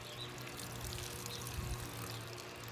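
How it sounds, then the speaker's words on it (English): Faint, soft trickle and pour of water onto germinating seedlings such as lemongrass, thyme and lavender, a continuous gentle splash with no talking. "I'm gonna water these things in."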